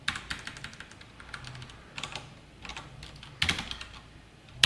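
Code being typed on a computer keyboard during a Spring Boot coding lesson, with quiet, irregular bursts of key clicks and one or two sharper key presses, heard close and alone.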